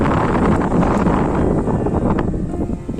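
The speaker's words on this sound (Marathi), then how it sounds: "डोंगराच्या किल्ल्याच्या टोकावर आहे. भन्नाट वारा आहे." Strong, cold wind buffets the microphone on the summit of Chavand hill fort, a continuous loud, rough rush of gusty noise with no voices.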